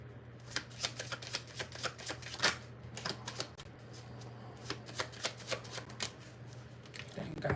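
Tarot cards are shuffled near and quietly, giving repeated crisp riffling snaps in uneven bursts over a faint steady hum.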